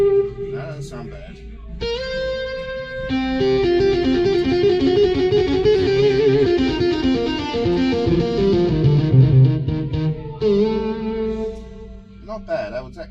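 Distorted overdrive guitar tone played on a Korg Pa5X or Yamaha Genos 2 arranger keyboard: a run of gritty chords and busy melodic phrases at steady volume, with a short pause near the start and another near the end.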